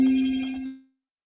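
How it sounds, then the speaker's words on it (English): A phone ringtone ends with a single short tonal chime that rings out and fades to silence within a second. "And your phone's ringing now."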